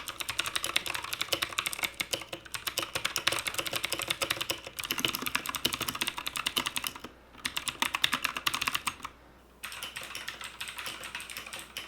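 Rapid, steady typing on a computer keyboard, keys clattering close by in continuous bursts with a few brief pauses, no voices.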